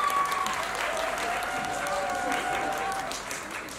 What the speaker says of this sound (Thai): ขอเสียงปรบมือให้กับหมายเลข12ครับ